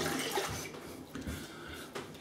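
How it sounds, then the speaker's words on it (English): Water running and splashing close by as a face is rinsed at a sink after a wet shave with an Edwin Jagger DE89 safety razor, a continuous gush with a few sharper splashes. "I'll just rinse off and we'll come back for some pickups."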